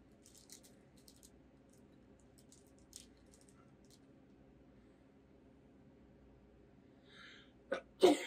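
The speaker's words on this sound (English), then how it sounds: "I'm going to sneeze again." After a long stretch of near silence with faint rustles, a person sneezes once near the end. The sneeze is short, sharp and close, and a small catch of breath comes just before it.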